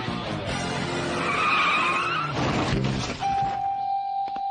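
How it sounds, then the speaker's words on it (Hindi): A cartoon car skids to a stop in an animated Shinchan scene, with a loud, rough tire screech that builds, then a thunk and a steady high tone as the skid ends. "कार रुक गई है।"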